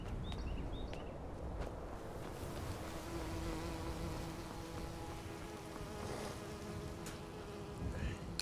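Bees buzz in the Enderal video game, a continuous droning hum with faint footsteps and soft ambient outdoor noise, heard at low volume with no talk.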